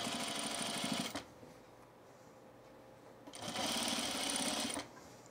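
A sewing machine stitches a men's Arbor shirt in two steady, fast-running bursts, each about a second long, separated by a quiet pause, with no talk.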